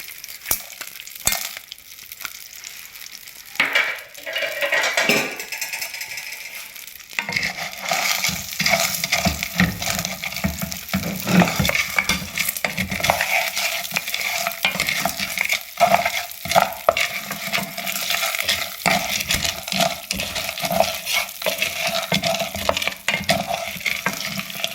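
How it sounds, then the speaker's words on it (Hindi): Gond, edible gum, frying in a spoonful of desi ghee, a dense continuous sizzle that swells after a quieter start, with frequent spoon scrapes and clinks against the pan close by, no talking. "तो यहाँ पे हमने जी इसमें गोंद शामिल करनी है और इसको हमें फ्राई करना है।"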